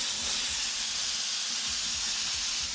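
An airbrush throws a wide spray as a steady, loud, close hiss that stays even from start to finish, with no voice over it.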